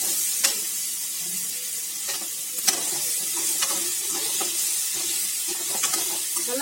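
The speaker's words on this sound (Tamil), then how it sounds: "நல்லா வதக்கிடலாம்." Drumstick pieces sauté in a hot pan with a continuous sizzle, punctuated by sharp clicks and scrapes of a spatula stirring every second or so.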